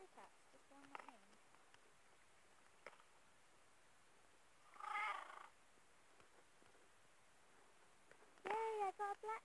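A black cat in Minecraft PE gives short game sound effects, faint brief bursts separated by quiet stretches, with a louder cluster of purr-like chirps near the end and no talking over them.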